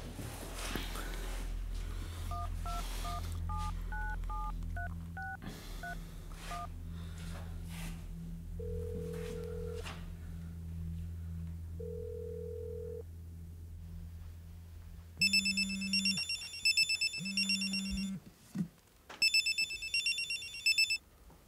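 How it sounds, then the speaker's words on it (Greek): Telephone tones: a quick series of dialing beeps, then a long steady tone, followed by several loud repeated rings in bursts, with faint talk early on. "Έλα, πάρ' το ένα τηλέφωνο τώρα."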